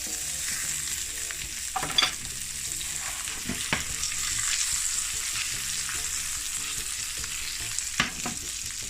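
Food sizzling steadily in a pan just after being flipped, a constant close frying hiss with a few scattered pops and clicks, no speech.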